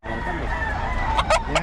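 A rooster crows among chickens on a farm, a loud, drawn-out call followed by a few sharp clucks, with background chatter and general noise of the yard.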